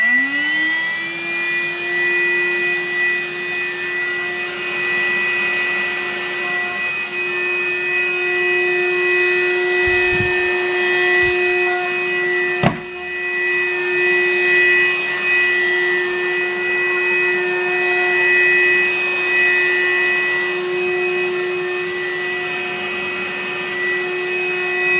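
A Goodmans 2-in-1 cordless vacuum cleaner spins up and then runs with a steady, high motor whine and airy rush, loud and close, broken by a couple of brief bumps and clicks partway through.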